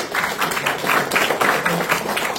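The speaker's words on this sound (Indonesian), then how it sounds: "Tepuk tangan dulu semuanya." Audience applause after a talk at a sports regulation briefing with national training athletes, a steady dense clapping wash for the whole stretch, moderately loud and near.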